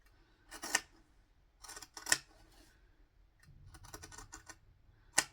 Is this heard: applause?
no